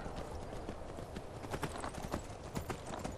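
Horse hooves in Skyrim clip-clop steadily in a quick, uneven rhythm against a constant noisy background.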